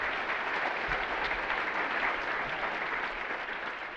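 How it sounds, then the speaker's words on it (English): Summit audience applauds steadily as a speaker is introduced, a dense, even wash of clapping from a large crowd that fills the whole stretch without pause. "please, give him a round of applause."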